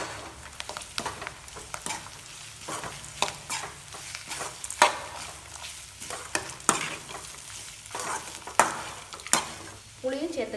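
Pirandai (adamant creeper) and grated coconut sauté in hot oil, a steady sizzle broken by repeated scraping strokes of a spoon against the pan, close and clear with no talking.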